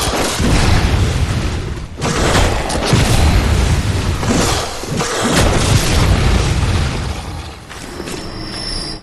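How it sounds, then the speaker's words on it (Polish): Heavy shotgun blasts in the video game Bloodborne, several loud booming shots in quick succession with dense, sustained reverberant rumble between them and no talk. "Trzy strzały ze strzelby i pozamiatane."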